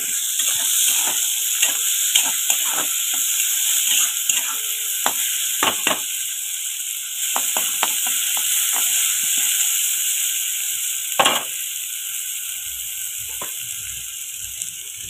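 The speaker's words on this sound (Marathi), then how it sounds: "आता कांदा लालसर आपल्याला भाजून घ्यायचा आहे." Onion frying in hot oil with cumin and mustard seeds, a steady close sizzle with intermittent scrapes and clinks of stirring, no voices.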